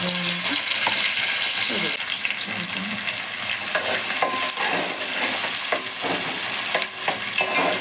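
Curry leaves hitting hot oil in a home kitchen while fish curry is cooked, giving a loud, steady frying sizzle throughout with a few stirring clatters.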